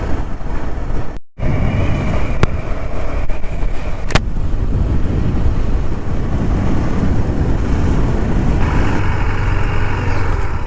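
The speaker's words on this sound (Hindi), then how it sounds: "चलते हैं, भगाते हैं अब थोड़ा सा गाड़ी।" A vehicle drives through rain on a mountain road in Uttarakhand, between Rishikesh and Chopta. It makes a steady, loud road-and-engine rumble mixed with wind buffeting. A brief dropout comes early, and there is no talk.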